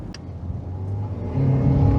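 Inside a Mercedes-Benz 190E (W201) with a 2-litre 4-cylinder engine and automatic gearbox, the transmission kicks down and the engine note climbs into a louder, steady rising hum, heard from the cabin with no talk.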